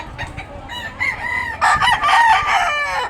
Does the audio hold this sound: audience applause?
no